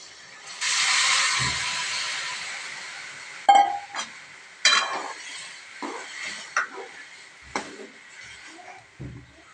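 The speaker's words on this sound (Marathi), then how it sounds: "आता त्याला हलवून घेऊया मध्ये आपण शिजवून घेतलेल्या शेंगा ज्या आहेत त्या घालून घेऊयात" Masala with cooked drumsticks being stirred in a pan: a soft scraping, sizzling wash at first, then a series of sharp clinks and knocks of a spoon against the pan at close range.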